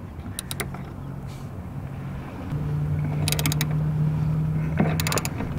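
A half-inch socket wrench tightening bolts on a power pole bracket, heard as a few short bursts of metallic ratchet clicks over a steady low outdoor hum.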